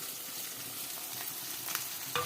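A vaghar tempering for a suran (elephant foot yam) vegetable curry sizzles hard in hot oil, a dense continuous crackling hiss close by, with a sharp spatter near the end and no talking.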